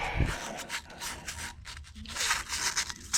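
Emery cloth and a wire brush scrub a metal surface during a Jeep wheel bearing repair, making a close, continuous gritty rubbing and scraping with quick back-and-forth strokes.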